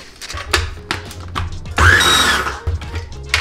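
A mixer blends cilantro, salt and black pepper in short choppy pulses, with rhythmic low thumps and whirs, then a longer, louder grinding whir lasting under a second before the pulsing resumes.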